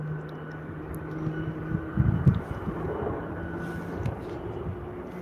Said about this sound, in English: Listen to that 767.